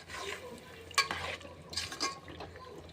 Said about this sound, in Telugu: ఒకసారి ముక్కల్ని బాగా కలుపుదాము